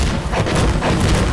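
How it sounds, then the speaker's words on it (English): Explosions in the Insurgency Sandstorm shooter game: heavy, rumbling booms and blasts roll together in a loud, dense burst of low thuds and crackling debris lasting over a second. "Big booms."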